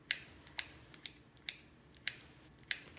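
Dates cut into tiny pieces with scissors, heard as six crisp, close snips spaced about half a second apart over a quiet room with no talking.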